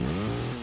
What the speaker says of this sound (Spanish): Eso es una motosierra, sí, ¿no?